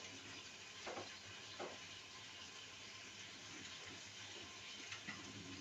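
An oiled eggplant roasts directly over a stove flame, giving a faint, steady hiss and crackle of charring skin with a few soft bumps as it is turned, quiet and close.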